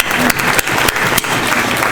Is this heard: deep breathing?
no